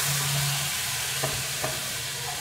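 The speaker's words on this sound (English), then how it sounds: "you're gonna start with a very hot pan, preheated. Get the Thrive sizzle going." Teriyaki beef sizzles in a very hot preheated pan, a steady close frying hiss with a couple of brief clinks and stirring sounds partway through.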